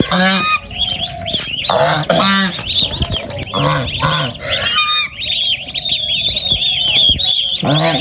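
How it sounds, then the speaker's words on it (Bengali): Village ducks and their ducklings call loudly and close, with harsh repeated honking quacks and overlapping cries. A voice speaks among them. "হাঁস আছে, হাঁসের ছাওয়া আছে।"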